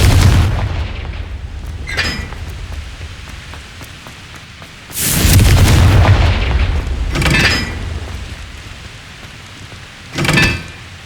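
Explosive bursts from the Confringo fire spell in the Hogwarts Legacy video game, three or four loud booming blasts with crackling tails spread across the stretch, the longest rumbling for a couple of seconds, over a low steady background.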